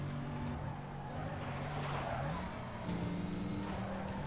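A racing car engine in the video game Need For Speed Most Wanted drones steadily at high revs, with the pitch dropping and shifting once midway while the car keeps speeding along.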